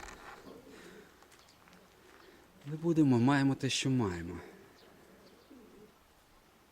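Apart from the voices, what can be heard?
grey pigeon cooing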